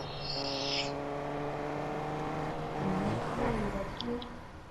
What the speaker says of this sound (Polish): Słychać było właśnie samochód